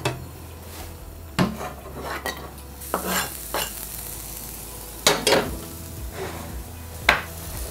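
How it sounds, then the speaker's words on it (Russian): Onion frying in vegetable oil in a pan, a low continuous sizzle broken by a few sharp clinks and scrapes of a utensil against the pan. "Обжариваю, добавив небольшое количество растительного масла."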